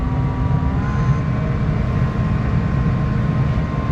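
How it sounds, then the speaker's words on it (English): Tractor engine idling and revving steadily while warming up before harvest work, a continuous low rumble with a faint tonal whine, close and unbroken throughout. "Gotta let the tractor warm up a little bit."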